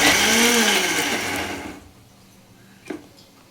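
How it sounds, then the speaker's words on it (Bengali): A kitchen blender chopping diced onions in a short whirring burst of under two seconds that winds down to quiet, followed by a single small knock. "কুচানো পেঁয়াজগুলো ব্লেন্ডারে দেওয়া হলো"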